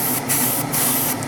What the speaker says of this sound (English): a few light mist coats over that radiator section